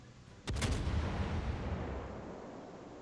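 Naval artillery fire in the World of Warships video game: a single loud, sharp boom bursts out suddenly, then rolls into a long, heavy rumble that fades slowly.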